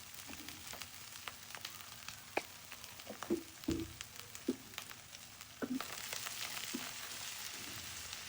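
Cabbage fries for egg fried rice in a hot pan over raised heat, a steady low sizzle with scattered soft pops and taps, and a brighter hiss swelling in the final seconds.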